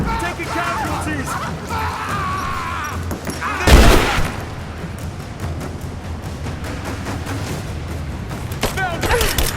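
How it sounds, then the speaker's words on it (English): Gunfire in the Rise of the Tomb Raider game, scattered shots and a louder burst of fire and impact midway, heard under shouted combat voices. "Fire in the hole! Now, keep reloading! Cover me! Cover fire!"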